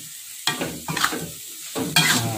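Spatula stirring tofu and long beans in a pan with yellow spice paste, a few scraping strokes over a soft sizzle of frying, close and alone.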